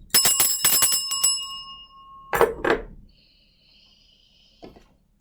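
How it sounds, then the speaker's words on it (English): Bell chimes for energy cleansing: a burst of bright metallic rings at the start, a sustained tone fading out, then softer clinks and a faint lingering ring, with no speech. "So you will hear a bell chime."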